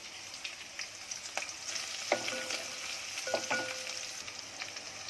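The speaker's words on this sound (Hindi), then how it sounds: "ये देखो तेल गरम हो गया, इसमें जा रहा है अपने लहसुन और मिर्ची।" Garlic and chili frying in hot oil in a pan: a steady, fairly quiet crackling sizzle with scattered pops and faint scraping from stirring, and no talking.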